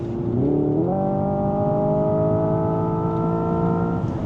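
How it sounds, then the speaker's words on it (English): Synthetic engine tone from a Hyundai IONIQ 5 N electric car accelerating at high speed on the Autobahn, a steady droning whine that steps up through two quick simulated gear shifts early on, then holds a constant pitch throughout. "And then you get these gear shifts, which do actually sound pretty cool."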